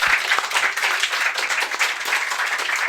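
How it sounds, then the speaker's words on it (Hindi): Studio audience applause for a contestant on a Hindi preposition quiz show, a dense, steady wash of many hands clapping close by for a few seconds with no talk over it. "अमित जी के लिए एक बार और जोरदार तालियां अमित जी के लिए, विद उनके कॉन्फिडेंस के लिए।"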